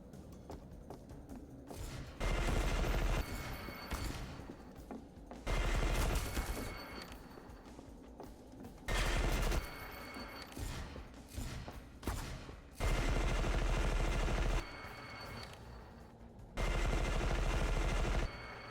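Gunfire in the first-person shooter E.Y.E.: Divine Cybermancy, loud bursts of automatic fire arriving in five separate volleys of one to two seconds each, with sharper single shots and clatter in the gaps between them.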